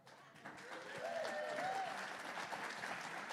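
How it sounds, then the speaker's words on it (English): Applause for bidders at a virtual fundraiser, a soft, faint wash of clapping from a modest group, steady throughout, with a faint tonal sound briefly mixed in. "Absolutely a big round of applause for all of our bidders"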